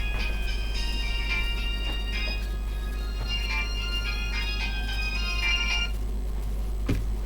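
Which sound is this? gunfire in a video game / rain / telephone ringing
telephone ringing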